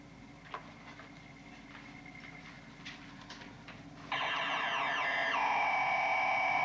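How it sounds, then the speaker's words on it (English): A spaceship's central computer collision alarm on a science-fiction moonbase, a loud, steady electronic warbling tone that cuts in suddenly over quiet ticking and machinery hum and keeps sounding. "Central computer gave a collision alarm, sir."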